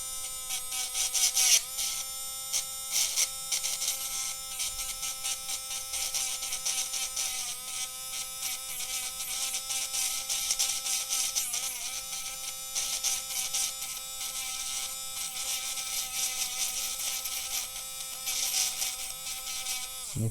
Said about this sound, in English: for that I have this little polishing tool. I will try to get most of the corrosion off here